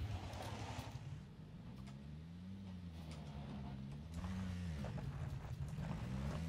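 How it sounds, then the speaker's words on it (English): A vehicle engine drones close by in PUBG (PlayerUnknown's Battlegrounds), a continuous loud rumble whose pitch rises and dips as it moves, with no break in the sound. "I hear a very close vehicle."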